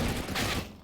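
Shotgun blast fired in Red Dead Redemption 2, a single loud burst of gunfire with a sharp attack that sustains briefly before fading.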